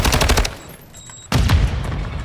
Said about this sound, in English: that bot just no-looked shooting at me